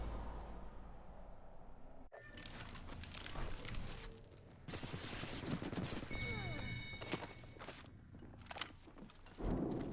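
Enemy gunfire in Apex Legends, sharp rapid bursts of shots cracking close by after a quiet start, with impacts and thuds between volleys and a faint voice underneath.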